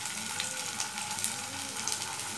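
Ginger garlic paste hits frying onions in a hot pan for a pomfret curry with mustard and poppy seed, giving a steady, close hiss and crackle of sizzling oil.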